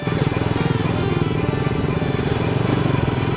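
A Bajaj Pulsar NS200 motorcycle ridden offroad on a trail near Shivapuri, its engine a steady close pulsing drone held throughout.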